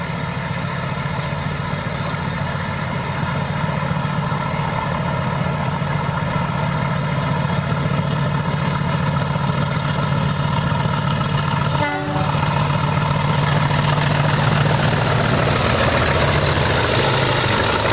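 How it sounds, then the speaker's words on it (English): A British Railways Class 40 diesel locomotive departing Ramsbottom on the East Lancashire Railway, its engine a loud, continuous throbbing drone with a steady low rumble, interrupted briefly by a short horn blast. "The Loco departs Ramsbottom."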